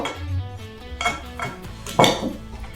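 A spoon stirs a cinnamon spice mixture for dipping apple slices in a bowl, giving soft scraping swirls with a few sharper clinks against the dish, close and alone.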